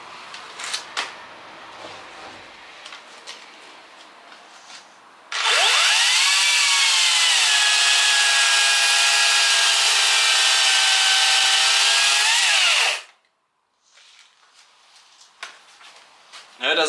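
A small cordless chainsaw cuts through a branch about 8 cm thick, its whining motor rising sharply and holding steady for several seconds before cutting off, with quieter handling noise before and after.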